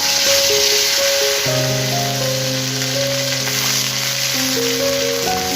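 Onion, garlic and cumin paste frying in hot oil, a steady close sizzle with a continuous hiss, overlaid by sustained tonal hum, no speech.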